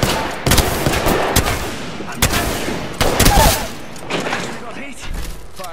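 Video game gunfire cracks out in quick, loud bursts and short volleys, close and punchy, with players chattering over the shots.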